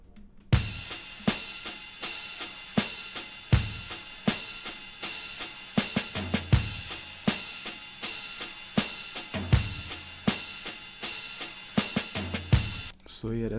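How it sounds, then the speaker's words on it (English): Vintage soul/gospel drum break looping steadily, crisp kicks and snares punching in a regular groove over a bright, dense cymbal wash, with no voice. "I also added like a drum break,"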